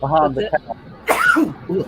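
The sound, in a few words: sneeze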